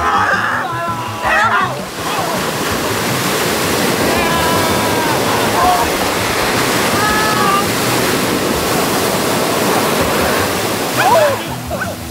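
Ocean surf at a beach, a steady roar of breaking waves and washing water filling the whole stretch, loud and close, with faint voices now and then underneath.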